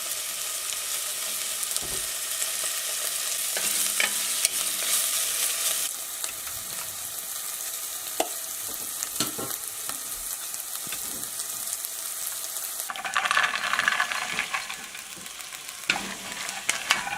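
A pot of 16 bean soup with thick moose bone broth is stirred on the stove. A steady sizzle and simmer runs throughout, with occasional soft scrapes and clinks of the spoon, close by and with no talking.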